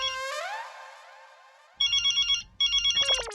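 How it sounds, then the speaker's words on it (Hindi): A mobile phone ringtone plays alone and fairly loud: a bright electronic melody, then pulsing repeated beeps and a rapid warbling trill. "अरे ये तो जेठालाल का फोन है"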